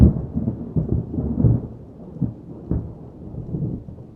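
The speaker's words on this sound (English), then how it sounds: "There's lightning at the moment, so there might be some thunder." Thunder rumbles through a night storm with rain, several low rolling swells and sharper cracks following one another, close and loud, with no voices.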